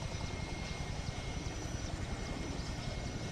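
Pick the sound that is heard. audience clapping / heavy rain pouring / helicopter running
helicopter running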